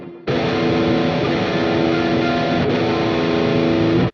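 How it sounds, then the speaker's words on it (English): Heavily distorted electric guitar raked across unmuted strings, producing a dense, loud wash of ringing noise that holds steadily for about four seconds before cutting off abruptly. "Because if you don't mute them, it's gonna sound something like this."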